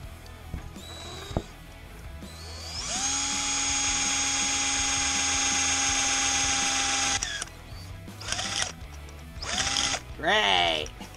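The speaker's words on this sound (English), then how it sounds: "I'm gonna drill the other hole now" A power drill whines steadily for several seconds at high speed, drilling a hole in a 1970 25 hp outboard motor during upper crankshaft seal removal, then stops; short bursts of grinding and clicking follow.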